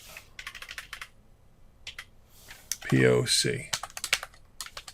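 Rapid typing on a computer keyboard while working on SQL Server queries, with steady close clatter of keystrokes, broken up by a short spoken phrase in the middle.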